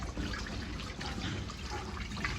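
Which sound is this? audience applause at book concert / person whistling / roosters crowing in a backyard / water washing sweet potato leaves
water washing sweet potato leaves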